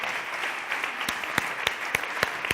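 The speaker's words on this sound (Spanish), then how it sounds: "Un aplauso grande a Calabizo" Applause at the closing event of a culinary entrepreneurs' forum, a soft wash of clapping with a few sharper, closer claps standing out near the end, no voices.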